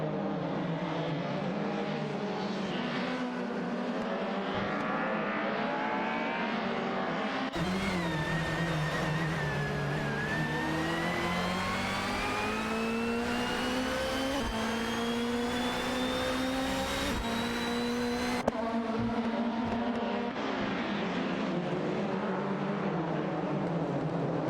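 Ford Sierra Sapphire and Volvo 850 race cars in a racing video game drone steadily with layered engine tones, pitch sliding up and down as they accelerate, one car's note swelling louder through the middle before dropping back.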